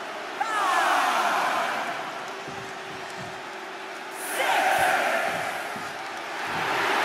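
Arena crowd in the WWE 2K23 wrestling video game during a Last Man Standing match, a roaring wash of cheering that swells, dips and surges again, with scattered thuds and game effects beneath.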